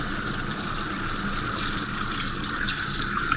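Pai ki yakhni, a trotter stock, is poured steadily into a mutton kunna pot, making a continuous close gushing pour with no break.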